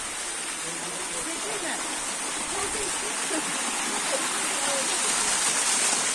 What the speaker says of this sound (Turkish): Burada akan bir çeşme var.